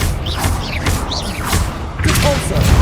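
Confringo fire spell blasts in Hogwarts Legacy, a series of loud thumping impacts with crackling bursts and whooshes, repeating several times in quick succession amid game effects.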